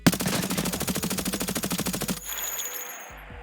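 Rapid automatic gunfire from a DMR or VSS in the video game Escape From Tarkov, a steady loud burst of closely spaced shots lasting about two seconds, then dying into a short echoing tail.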